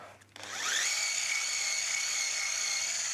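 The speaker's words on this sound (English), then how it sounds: "So we're just going to whisk it up." Electric whisk beating vanilla butter in a kitchen, a steady high motor whine that starts after a short pause and holds evenly, close and fairly loud, no talk.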